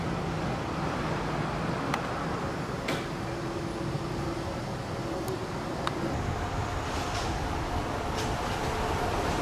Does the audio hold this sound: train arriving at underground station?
yes